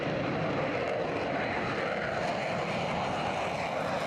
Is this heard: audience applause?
no